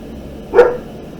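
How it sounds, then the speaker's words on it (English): A single dog bark sounds once in the background, a short muffled burst standing briefly above a quiet indoor room. "Sorry about the dog."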